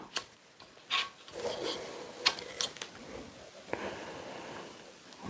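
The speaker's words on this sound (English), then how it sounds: "By loosening these knobs." Knobs on an adjustable rifle stock being loosened, likely on an Aero Precision Solos precision rifle, give scattered close rubbing and scraping sounds with a few sharp clicks.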